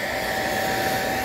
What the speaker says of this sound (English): And I like the blow dryer.